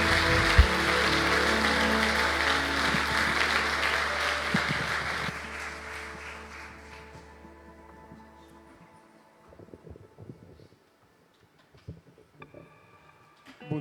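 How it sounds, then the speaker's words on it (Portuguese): A church congregation applauds to welcome a pastor, a dense clapping wash with a sustained organ-like tone beneath that fades after about five seconds, leaving sparse quiet clatter and faint sounds. "Vamos receber o pastor Djalma com forte aplauso ao Senhor"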